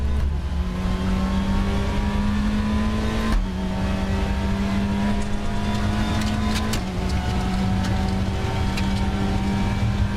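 A race car engine in the racing game RaceRoom, driven in a Super Touring car, droning loud and steady with clear gear-change drops in pitch and a rising rev pattern, close and continuous with no talk.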